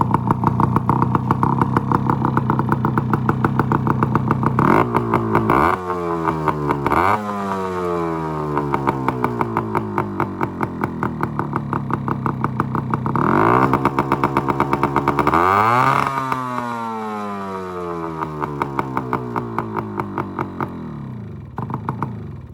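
A 1974 Yamaha RS100 cafe racer's small engine runs loud and close, its buzzing two-stroke note rising and falling through repeated revs with several sharp throttle blips and sweeping pitch changes, and no voices.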